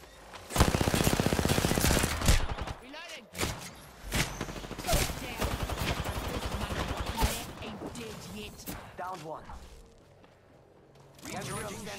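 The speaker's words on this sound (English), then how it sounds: "The enemies are shooting at me." Enemy gunfire in Apex Legends: loud sustained automatic bursts with crisp rapid repeating shots, then scattered single shots and pauses, while game voices talk over the action.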